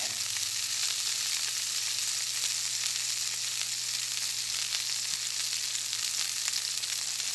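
A tofu hamburger sizzles steadily over a campfire, giving a dense, continuous crackling hiss at close range with no talking.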